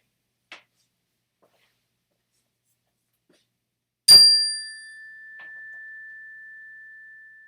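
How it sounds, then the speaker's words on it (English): A single bell struck in a lecture on proofs rings out loud and clear after near silence, with a sharp attack and a long, steady ringing tone that slowly fades, preceded by a faint brief tick. "Hopefully that was an audible bell"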